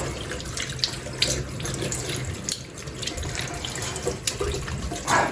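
Steady rush of water from a running tap with splashing and sloshing as homemade butter is rinsed beneath it, continuous and fairly close.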